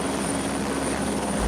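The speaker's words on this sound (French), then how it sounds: "le départ en hélicoptère à l'aube" Helicopter at dawn in the film Apocalypse Now, a loud, steady rotor and engine drone with a continuous thrumming character, no voices over it.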